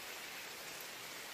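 Steady rain falls over a vegetable garden in the Philippines, a soft, even hiss of drops with no talking.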